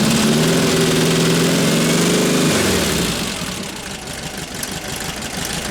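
A small two-liter car engine idles through a 1 5/8 Sidewinder exhaust fitted with a baffle, a loud, steady low drone that drops into a quieter, rougher idle partway through.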